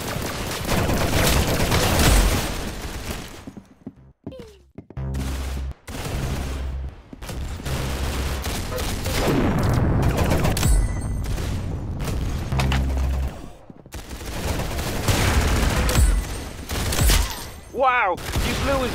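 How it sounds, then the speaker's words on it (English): Dense gunfire and booming explosions from the Roblox game Arsenal, rapid shots and thumps layered with music and game effects, voices heard at points over the near-continuous din. "Very good shooting"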